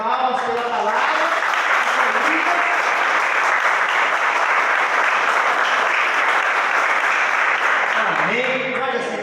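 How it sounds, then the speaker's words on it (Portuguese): An evangelical church congregation claps together in praise for several seconds, a dense, steady wash of applause that fills the room. A voice speaks briefly at the start and again as the clapping fades at the end. "louve o Senhor com suas palmas pela palavra"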